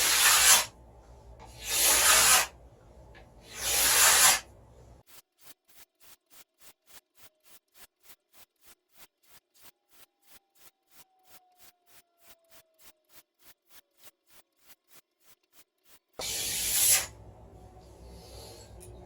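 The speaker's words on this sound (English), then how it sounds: "I'm gonna do 40 good hard scrapes on the other side" Hard scraping on a wooden selfbow limb, three long loud rasping strokes up front, then a long run of quick, evenly spaced faint scrapes, ending with two more loud rasps, close up with no voices.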